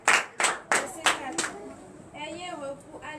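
Church congregation clapping in several loud, evenly spaced bursts during a worship service, then fading as a voice speaks or sings softly underneath.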